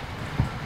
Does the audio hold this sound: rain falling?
yes